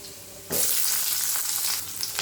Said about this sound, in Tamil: இப்போ வெங்காயம் போட்டு நல்லா வதக்கலாம்.